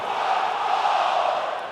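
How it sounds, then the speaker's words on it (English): A video game wrestling arena in WWE 2K20 fills with a steady, dense roar of crowd cheering that holds evenly throughout, with no distinct voice standing out. "Listen to this crowd, guys. They're fired up for this one."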